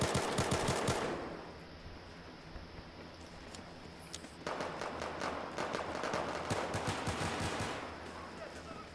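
Rapid pistol shots from an M9 sidearm in a Battlefield 4 pistols-only match, a dense burst at the start, then a sparser run of sharp cracks over steady game ambience.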